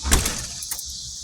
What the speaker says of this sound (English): The key's stuck in the door.